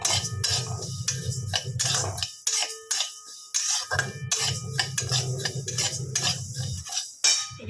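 Golden mung dal is dry-roasted in a pan, a metal spoon scraping and clinking in quick bursts of stirring, separated by short pauses, close and fairly loud with no talking.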